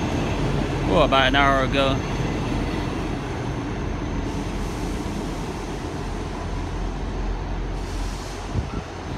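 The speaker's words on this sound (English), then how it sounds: "Another Southwestern Railway train coming in, another two coach, the 158888." A two-coach South Western Railway Class 158 diesel unit, number 158888, arrives at Southampton Central with a steady rumble and a brief rising squeal of brakes, while someone talks briefly over it.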